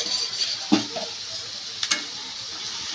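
Bitter gourd curry with onion pieces, salt and turmeric is stirred and fried in a pan, giving a soft steady sizzle with a couple of brief scraping stirs.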